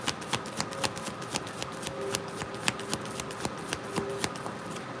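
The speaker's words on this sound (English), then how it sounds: "Y'all just saw me shuffle forever." Rapid riffling and slapping of a card deck being shuffled, sharp papery bursts repeating in quick irregular rhythm, close to the listener.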